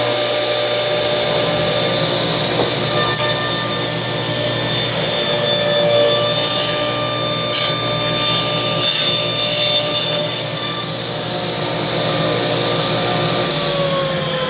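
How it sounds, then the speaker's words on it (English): A CMT orange saw blade rips through 3/4 inch red oak with a small knot, giving a loud, steady cutting whine with brief surges as the wood feeds, with no voices. "Of 3/4 inch red oak, and it's got a little knot in here, and I'm going to go right through that knot"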